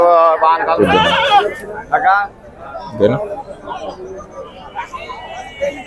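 Large goats bleat several times at a busy outdoor livestock market in Pebbair while people talk nearby and over the calls.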